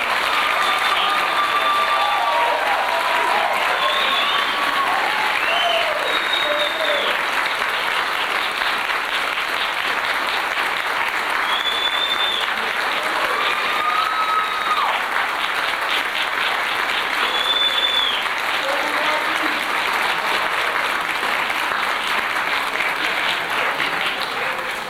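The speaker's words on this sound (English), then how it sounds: "All right, everybody, one last hearty round of applause." Sustained applause from the audience at a Navy graduation ceremony, loud and continuous throughout with scattered cheers and whistles, no talk over it.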